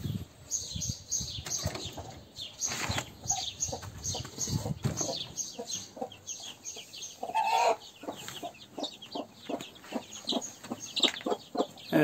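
Inside a chicken coop, a broody hen and her chicks cluck and cheep in a busy, irregular chorus of short calls, with occasional wing flutters close by.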